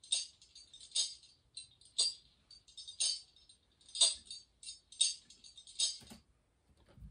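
A Wurlitzer electric piano loop run through a flanger comes out thin and metallic, a jangly clinking hit that repeats about once a second over seven seconds, bright and dry, with no voices.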